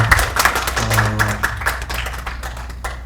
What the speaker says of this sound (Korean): 박수 부탁드릴까요?